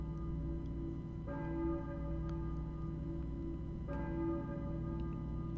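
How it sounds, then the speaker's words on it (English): Two deep church bell strikes toll in the Silent Hill video game, each ringing out with a long, shimmering decay over a constant low, droning ambient hum, distant and fairly faint. "I hear a church bell, maybe. Who is ringing the bell?"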